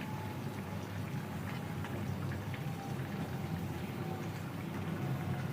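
An egg, potato and pointed gourd curry simmers in a pot, giving a steady, dense bubbling crackle that holds at an even level throughout with no voices.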